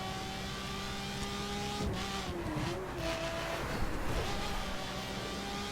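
Lamborghini Aventador LP700-4 engine in the racing game The Crew, a steady droning car engine with shifting pitch as it revs and eases, a brief tire-screech-like sweep midway, continuous and fairly close.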